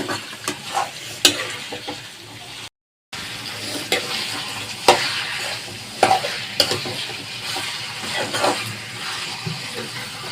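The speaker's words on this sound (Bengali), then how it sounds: "দেখতে পাচ্ছেন মাংসটা ভালো করে নাড়াচ্ছি" Meat cooked with ginger paste sizzles steadily in a hot wok while a utensil scrapes and stirs it, with sharp clanks against the metal and a brief dropout partway.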